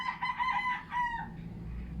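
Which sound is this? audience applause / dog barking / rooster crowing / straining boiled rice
rooster crowing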